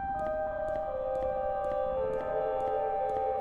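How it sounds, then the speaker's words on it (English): Start-up tones from the video game Everhood: sustained, layered electronic chime notes shifting pitch partway through, over a soft background with faint regular ticks, no speech. "Hey, that's the tones that play when you start up the game."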